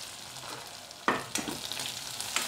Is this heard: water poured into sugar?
no